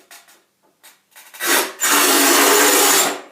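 A few faint scraping taps, then a loud, steady grinding scrape as the scoring wheel of a manual tile cutter is pushed across tile, close by.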